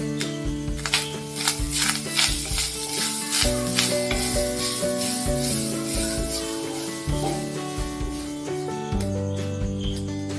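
Grated coconut roasts in a hot pan as part of a tomato theeyal, giving a soft, continuous sizzle and crackle with occasional scraping stirs, close and moderately quiet, with no talking.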